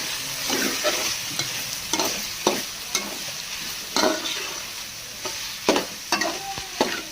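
Cabbage and mixed vegetables stir-fried in a pan, a steady close sizzle broken by repeated scraping strokes of a spoon roughly every second, with no voices.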